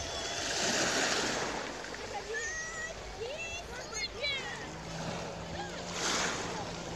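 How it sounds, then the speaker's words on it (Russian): Black Sea waves washing onto a beach at Shirokaya Balka near Novorossiysk, a broad rushing surge that swells and recedes, with wind buffeting the microphone and someone speaking over it. "Как красиво море"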